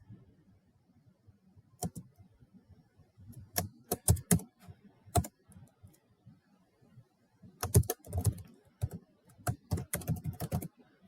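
Keystrokes on a computer keyboard as text is typed into Cricut Design Space, coming in quiet separated bursts of clicks with pauses between words, close and alone with no talk.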